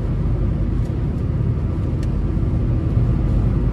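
Interior cabin noise of a 2019 Kia Rio S with a 1.6-litre engine cruising, a steady low road and engine rumble with faint tyre hiss, constant and unbroken.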